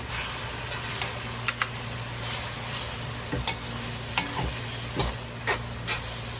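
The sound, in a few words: egg added to half-cooked carrots, stirred in pan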